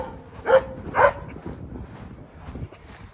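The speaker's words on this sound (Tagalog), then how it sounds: "Ingay nito aso na to eh." A dog barking noisily nearby, two sharp loud barks close together followed by fainter yips and whimpers against a quiet outdoor background in San Diego, California.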